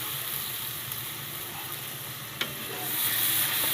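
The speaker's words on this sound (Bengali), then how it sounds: "মশলাটা এইভাবে সুন্দর করে আপনার নেড়ে চেড়ে নেবেন।" Ground spices and dried chili powder frying in oil in a pan for a village-style chicken curry, a steady close sizzle with scraping stir strokes and one sharp clink near the middle, no voices.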